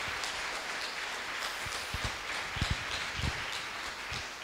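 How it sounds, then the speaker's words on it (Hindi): Faint, scattered clapping from a church congregation during a Hindi sermon, soft irregular hand claps spread across a few seconds with a low, distant quality. "तालियां बजाएं और उसको धन्यवाद दें"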